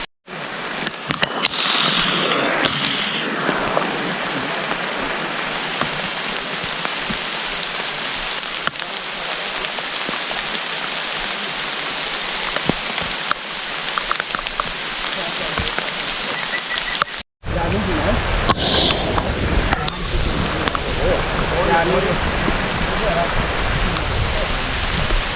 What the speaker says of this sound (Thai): ฝนตกด้วยตอนนี้